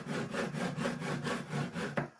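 A freshly sharpened cross-cut saw cuts through wood in quick, even back-and-forth strokes, with a raspy, close, continuous rhythm.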